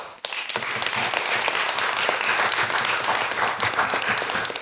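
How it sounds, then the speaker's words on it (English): Dense, loud audience applause for four debate teams and three judges at a debating society event, a continuous wash of many hands clapping close by without a break. "give them a round of applause"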